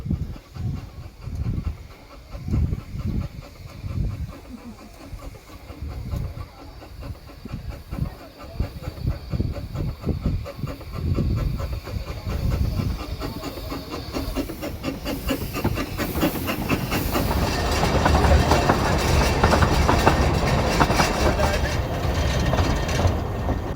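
A Talyllyn Railway steam train running through a valley, rhythmic chuffing and clickety-clack building louder with hiss of steam, with some speech mixed in.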